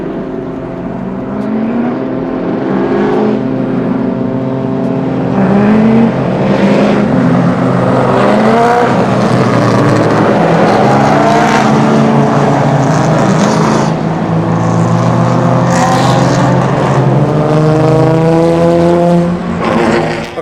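GRIDLIFE Touring Cup race cars rolling past on a formation lap at a time attack event, a loud, continuous engine roar that swells as the pack passes close by and holds steady for the whole stretch.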